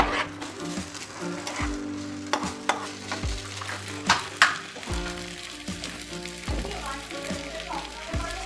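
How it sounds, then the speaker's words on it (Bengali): Beet and potato chop mixture with spices being stirred in hot oil in a pan, with close scraping and soft sizzling and a few sharper knocks against the pan, heard alone without talk. "এখন তেল দিয়ে আমরা ভালো করে নেড়ে আমরা ড্রাই করে নেবো"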